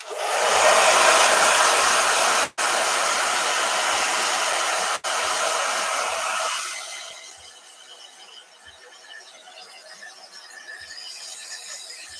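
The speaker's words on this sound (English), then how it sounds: "every time the blow dryer goes" A blow dryer roars loudly with two brief cutouts, then its whine fades down to a quieter hum for the rest.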